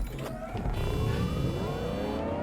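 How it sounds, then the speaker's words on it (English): Electric car driving in Watch Dogs Legion, a rising synthetic whine climbing steadily in pitch over a low rumbling road bed, continuous and fairly loud with no talk. "I love the sound of the electric cars of this game."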